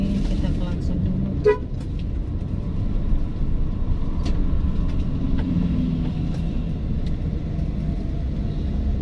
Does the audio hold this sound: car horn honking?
yes